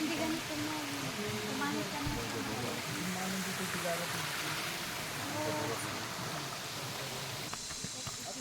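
A waterfall pours near a rocky mountainside, producing a steady, broad rushing hiss that fills the whole clip at moderate distance, with faint voices and chatter mixed underneath.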